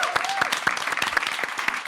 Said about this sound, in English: let's applaud them and wish them all the best for next year